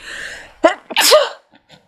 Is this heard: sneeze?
yes